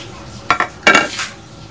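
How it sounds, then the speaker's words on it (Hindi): Dry spices drop into a pot of beef yakhni with a couple of quick metallic clinks and rattles, a short scrape-like burst following, close and fairly loud with no talk. "अब हम ये तमाम स्पाइसेस जो हैं वो इसमें ऐड कर देंगे।"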